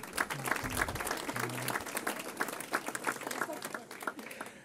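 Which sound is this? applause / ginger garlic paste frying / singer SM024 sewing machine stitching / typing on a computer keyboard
applause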